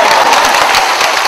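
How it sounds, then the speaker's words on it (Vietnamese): Applause from a comedy show audience in Vietnam, a dense, steady wash of clapping held at an even loudness for about a second with no break. "Chưa có hết mà vỗ tay cái gì."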